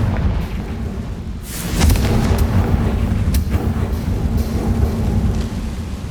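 Confringo, a blasting curse in the PS5 game Hogwarts Legacy, bursts with a deep rumbling boom. A steady low roar is followed by a sharp crack and a heavy, sustained blast with crackling debris, and no talk over it.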